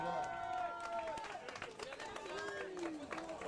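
Scattered clapping from an outdoor crowd at a firefighters' departmental cross-country race, short sharp claps running under an announcer who keeps talking throughout.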